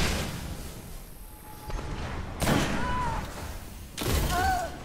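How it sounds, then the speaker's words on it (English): A grenade blast in the video game Destiny comes as a broadband burst about halfway through, with a second thud near the end over steady game background noise. "Grenade got me."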